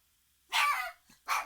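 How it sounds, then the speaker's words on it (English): A dog barks twice outdoors, one longer bark then a shorter one, moderately loud with no other noise around it. "There's some dogs barking outside, and that's kind of triggering Leo here."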